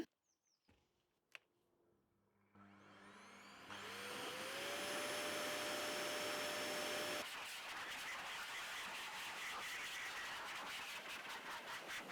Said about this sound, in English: I dried off the car using my Blowair RS car dryer